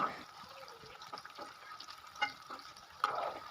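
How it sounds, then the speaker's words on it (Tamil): Cauliflower pieces fry in hot oil over a high flame for a simple cauliflower chilli, with a soft, low sizzle and a few louder stirring scrapes and clinks in between. "இப்போ நல்லா ஃப்ரை பண்ணியாச்சுங்க"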